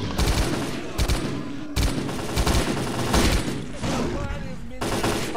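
Rapid bursts of automatic gunfire ring out in the video game Lost Alpha, several loud rattling volleys separated by brief pauses, with a voice talking at times.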